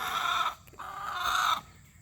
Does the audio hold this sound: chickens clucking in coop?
yes